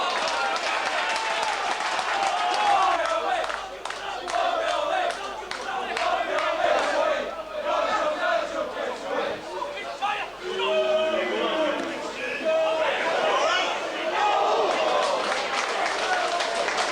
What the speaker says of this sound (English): Barrow hit back strongly, roared on by the large Cumbrian crowd